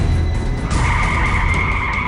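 A car swerves sharply left on the road and skids, tires squealing in a sustained high screech that builds partway through over the rumble of the engine.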